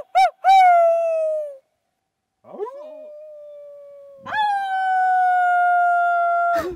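Several long, drawn-out human howls imitating wolves, rising and sliding in pitch, a few overlapping with short breaks between, loud and close, outdoors in the wilderness of Woodland Caribou Provincial Park.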